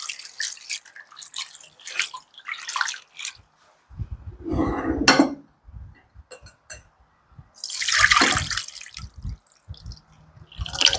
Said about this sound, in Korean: 물에 한번 헹궈줍니다.